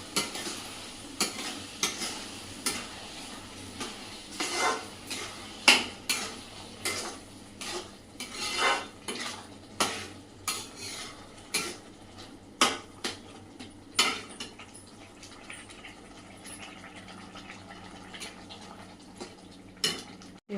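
Pumpkin payasam with sugar being stirred in a pot, a spoon scraping and clinking against the metal in repeated strokes with a soft sizzle underneath, close and steady over about twenty seconds.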